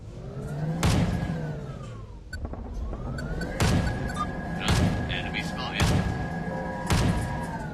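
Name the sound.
cannon firing in VTOL VR video game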